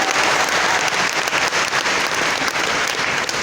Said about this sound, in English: Round of applause for the scarf!